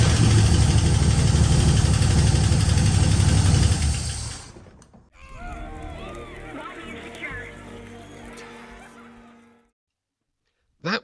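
A Rover V8 in a scruffy AC Cobra replica starts and runs loudly for about four seconds, then drops to a lower, rougher idle that fades before cutting out, followed by a short burst of noise at the end.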